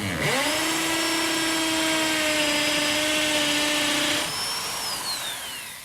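A power tool runs in a workshop loft, a steady high-pitched whine starting abruptly and holding loud for about four seconds before easing off as the motor spins down.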